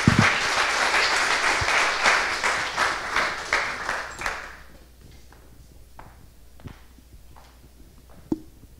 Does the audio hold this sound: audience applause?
yes